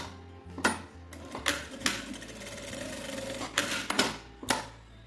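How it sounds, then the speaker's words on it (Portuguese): A sewing machine stitching a topstitch seam on fabric, heard in short irregular runs of rapid mechanical clatter with quieter gaps between them, close and fairly soft. "vou fazer uma costura de pesponto"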